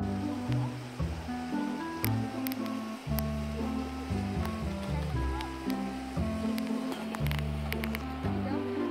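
Rushing water from the waterfall at Kitchen Creek Falls near San Diego, a steady broadband roar heard throughout, overlaid by loud, continuous low-pitched sound that may be voices or handling noise.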